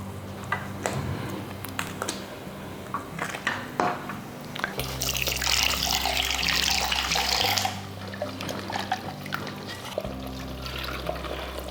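Water poured into a pan of brinjal curry with ground spice paste, a steady splashing pour lasting a few seconds amid kitchen clatter, loud and close.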